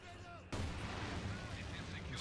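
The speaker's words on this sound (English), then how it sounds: "Incendiary barrage right on top of that Maxim machine gun in the house" An incendiary artillery barrage in Company of Heroes 2 crashes in suddenly, loud and dense, with crackling bursts over a sustained roar under a voice.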